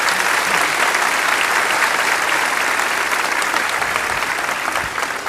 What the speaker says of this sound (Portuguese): Uma salva de palmas para as donas de casa, por favor.